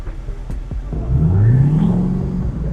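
A truck engine with a 64mm exhaust revs up from idle, the pitch climbing smoothly into a loud, sustained drone heard from inside the cab after a few low knocks.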